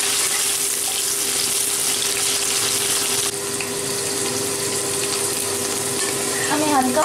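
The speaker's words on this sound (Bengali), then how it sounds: "আমি প্রথমে আলুগুলোকে একটু ফ্রাই করে দিচ্ছি, খুব হালকা ফ্রাই করব।" Potatoes frying lightly in oil in a pan, a steady, even sizzle holding at a constant level throughout, with faint stirring and kitchen clatter.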